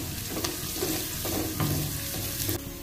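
Chopped ginger and green chillies sautéing in a pan, with a loud continuous sizzle close by and several sharp stirring scrapes spaced through it.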